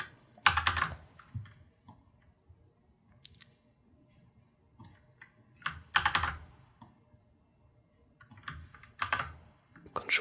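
Photoshop keyboard shortcuts are typed in scattered bursts of clicky keystrokes with quiet gaps between, close and fairly soft.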